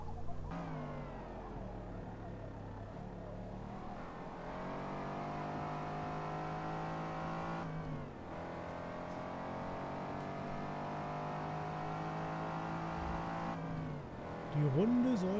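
A race car in Forza Motorsport 8 drones steadily through the gears, its engine note rising and falling with upshifts, heard continuously at moderate level from the cockpit.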